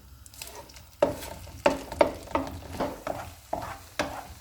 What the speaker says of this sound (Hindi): ऑयल गर्म हो गया, इसमें हम अंडे डाल देंगे। अब इसको हम मिक्स कर लेते हैं।